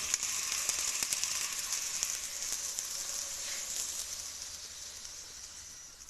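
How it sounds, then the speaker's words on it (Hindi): Capsicum (bell peppers) fry in hot oil with a dense, continuous crackling sizzle that stays bright and close throughout, easing slightly toward the end, with no voices. "अब इसमें मैं अपनी शिमला मिर्च फ्राई कर लूँगी"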